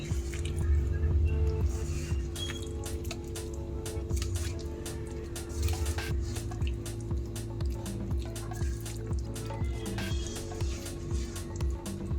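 Raw chicken mixed by hand with egg and cornflour in a bowl for an Iftar snack, a continuous wet squishing and slapping close up, with soft dripping sounds over a low background hum.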